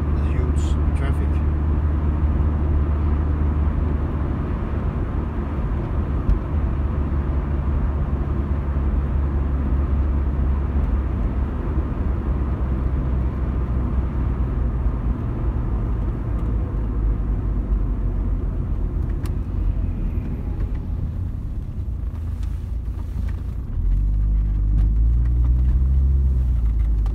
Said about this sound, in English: we have the motorway which carries the huge traffic